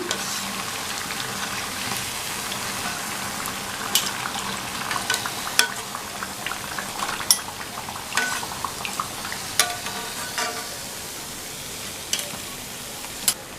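Rava bonda deep-frying in hot oil, giving a constant close hiss and crackle with occasional spoon clinks and stirring knocks against the pan, moderately loud, with no speech.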